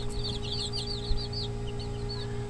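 Newly hatched chicken chicks peeping in a rapid run of thin, high chirps, close by over a steady electrical hum, with no talking.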